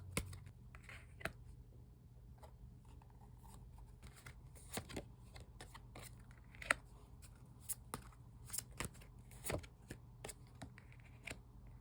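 Tarot cards shuffled and drawn by hand for a reading: quiet, irregular papery flicks and soft taps scattered throughout, with faint low background hum and no talking.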